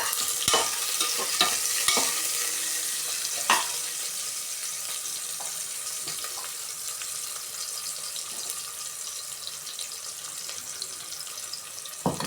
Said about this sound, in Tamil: சால்ட்டு போட்டுட்டு வதக்கலாம்